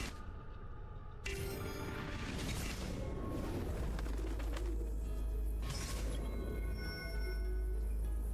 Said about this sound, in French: Pigeon là.